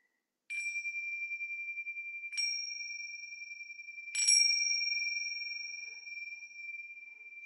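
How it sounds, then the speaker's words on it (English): A meditation bell struck three times at a gentle pace, each clear ringing tone sustaining and slowly fading, alone in an otherwise quiet room. "we'll begin and end with a bell"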